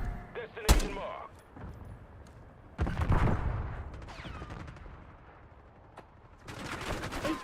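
Gunfire in a first-person shooter game, with a couple of sharp shots and a heavier burst followed by further shots and rattling. Bursts are spread irregularly over a constant background.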